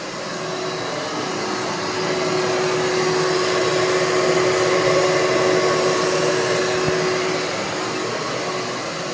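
A gravity-feed spray gun sprays IGL Eclipse protective coating onto a car's wheels, a steady close hiss of air and atomised liquid holding level for the whole stretch with no talk.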